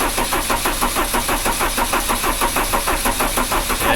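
A car engine cranking over on the starter, a fast rhythmic churning pulse repeating steadily for several seconds without catching, loud and close.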